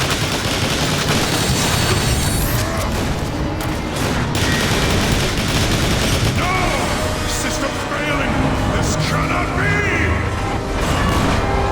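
Heavy gunfire in Transformers: War for Cybertron on PC, a loud, continuous barrage of volleys and bursts with booming impacts and mechanical effects running the full length, with battle voices mixed in.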